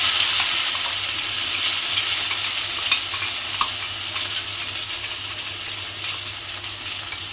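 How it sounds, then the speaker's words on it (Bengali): Spice paste fries in hot oil and ghee as it is cooked down, giving a steady close sizzle with occasional clicks and taps from the spoon and no voice. "মশলাটা আমি এর মধ্যে দিয়ে দিলাম, দিয়ে আমি একটু মশলাটাকে কষতে দেব"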